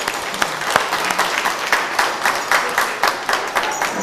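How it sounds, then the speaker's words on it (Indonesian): A seated audience applauds young child performers with a steady, even round of clapping from many hands, close and continuous with no talk over it. "sekali lagi tepuk tangan untuk cucu-cucu kita"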